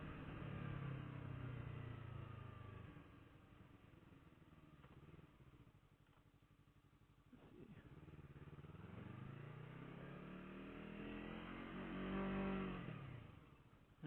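A Yamaha R3 motorcycle on a ride, engine note rising and falling through gear changes and throttle swells, steady wind rumble and a strong rev build near the end, heard from the rider's position without talk.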